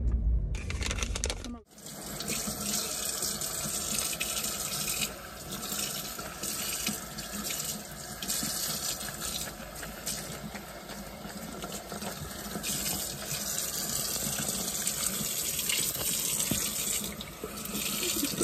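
Water runs steadily from a tap into a sink while hair is being washed at home, a loud continuous splashing flow that starts abruptly after a brief pause and continues without break to the end.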